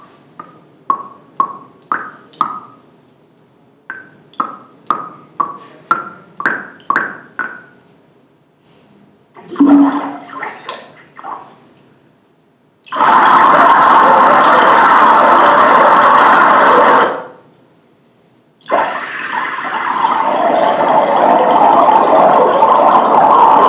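Physics-simulated water bubble sounds, first a series of short tonal bloops in quick rhythmic groups, then a gurgling burst, followed by two long rushing, churning stretches of pouring water separated by a brief silence.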